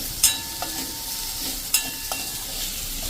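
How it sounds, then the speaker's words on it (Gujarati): Vegetables for a cauliflower and pea curry fry in a pan over a low flame as they are stirred, a steady soft sizzle with a few sharp scraping clinks from the spoon. "અને હવે આને આપણે 1 મિનિટ આ રીતે હલાવશું."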